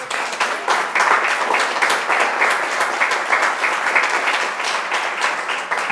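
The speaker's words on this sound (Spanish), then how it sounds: "Démosle un aplauso a Jesucristo." A church congregation breaks into loud, close applause, a dense crackle of many hands with a slight rhythmic pulse, sustained evenly for several seconds.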